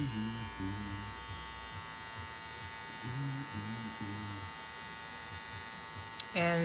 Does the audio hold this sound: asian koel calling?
no